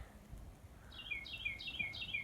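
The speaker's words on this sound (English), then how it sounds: "I think that cardinal's chirping again." A cardinal gives a quick series of four bright, clear chirps, each a short downward-sweeping note, sounding from a little distance over a quiet outdoor background on a farm with cattle.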